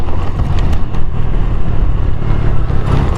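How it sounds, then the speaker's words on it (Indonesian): Close, loud engine drone of a motorcycle that is struggling and not pulling well on the road, a rough low rumble with uneven pulsing and no clear rise in revs. "Ini sepertinya motor saya bermasalah teman-teman ya"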